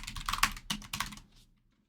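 Quick bursts of keystrokes on a computer keyboard, a brisk uneven run of close clicks lasting about a second before stopping, with no voices.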